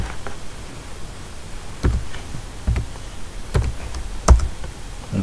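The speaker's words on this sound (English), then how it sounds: "so I'll type 768." A handful of sparse, crisp key presses on a computer keyboard, close and distinct over a quiet hiss, spaced irregularly with no talking.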